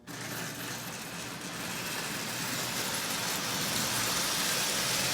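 A Lionel 8902 model train locomotive running on DC power from a converted 1033 transformer, producing a steady motor whir and rolling hum on the track that grows slightly louder, close by and continuous, with no talking.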